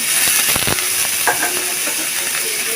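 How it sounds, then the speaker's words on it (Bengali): Chopped onions frying in hot oil as the base for a Bengali pangas fish and potato curry, giving a steady, close, fairly loud sizzle with scattered crackles and a few stirring scrapes, with no talking. "পেঁয়াজগুলো একটু লাল লাল করে বাজে নিতে হবে"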